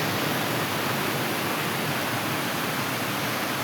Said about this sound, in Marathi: आणि हा बघा किती मोठा धबधबा